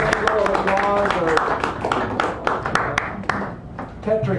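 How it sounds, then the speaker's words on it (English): Audience applause at a poetry reading in a San Francisco café, a scattered crowd of claps across several seconds with voices and talk mixed in beneath. "Give a round of applause"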